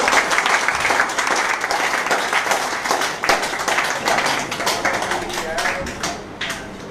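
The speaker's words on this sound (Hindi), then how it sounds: "जोरदार तालियां विवेकानंद के लिए।" Steady applause fills a hall as an audience claps for a guest speaker at a leadership program, dense and continuous throughout before thinning slightly at the end.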